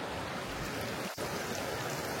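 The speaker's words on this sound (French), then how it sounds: "au soleil, à côté de la rivière" A river flowing beside a sunny outdoor terrace, a steady broadband rush of moving water close by, constant and fairly loud with no voices, broken only by one brief dip.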